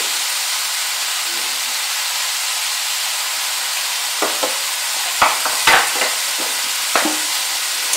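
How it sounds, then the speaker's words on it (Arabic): A soft continuous sizzle and hiss as two large spoonfuls of flour cook in melted butter in a pan, with occasional light scraping strokes of a whisk toward the end. "وغادي نحرك بالزربه حتى يتميلونجا ليا هاد الطحين مع الزبده ديالنا"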